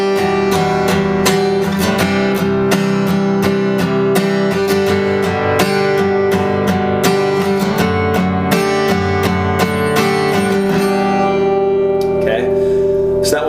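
An acoustic guitar strums the chord progression of a song, steady and close, with a full ringing sound that thins out toward the end.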